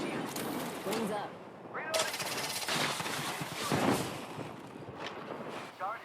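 Gunfire in the battle royale game Apex Legends, rapid automatic bursts filling most of the stretch alongside game effects, with a player talking over parts of it.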